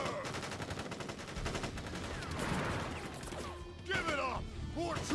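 Soldiers in a Final Fantasy video game fire a volley, dense rapid gunshots rattling continuously for several seconds with crashes and sharp impacts near the end, voices mixed in under the shooting.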